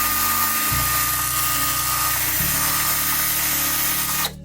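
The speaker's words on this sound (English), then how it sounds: "the sander just really does a good job with it" A power sander runs continuously on interior trim wood, a loud close whir that drops in pitch as it bites into the surface, then cuts off abruptly at the end.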